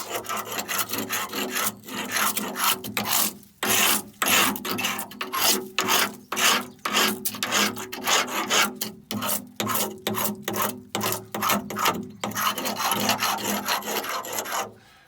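Repeated rasping scrapes of a scraper stripping old paint off a K6 red telephone box, close up, in quick steady strokes with a few short pauses.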